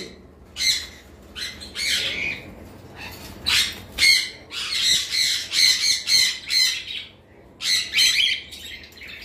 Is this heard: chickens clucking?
no